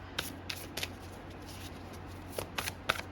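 A deck of animal oracle cards is shuffled by hand in quiet clusters of soft riffling flicks, close and faint over a low steady background hum, no voices.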